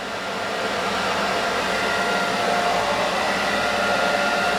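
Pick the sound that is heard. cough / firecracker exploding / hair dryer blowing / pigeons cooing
hair dryer blowing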